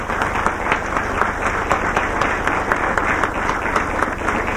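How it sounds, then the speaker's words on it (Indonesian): An audience claps steadily at a comedy stage show, the dense, even patter of many hands going on without a break, loud and close. "Tepuk tangan untuk itu."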